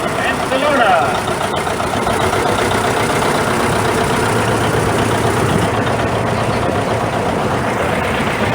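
A 1959 John Deere 730 tractor rolls by in an old engine show parade, its engine a steady mid-distance chugging idle blended with crowd noise, while an announcer talks over it.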